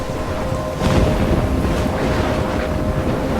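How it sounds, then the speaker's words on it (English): Storm in the video game Life is Strange: a steady, loud roar of wind and rushing rain with a surge around the one-second mark and a low rumble underneath, continuing throughout with no voices. "I'm trapped in a storm?"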